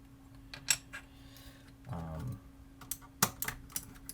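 A computer keyboard being cleaned with a key puller, giving scattered close clicks and plastic taps with a brief low rustle midway and a few sharp knocks, with quiet gaps between them.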